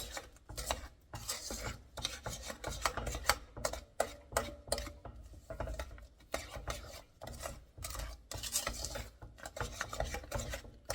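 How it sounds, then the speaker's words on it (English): Cake mixture for a 7UP cake being stirred in a pot with no heat yet, a rough rhythmic scraping and rubbing in repeated quick strokes, close and steady, with no one speaking. "So I'm stirring this good"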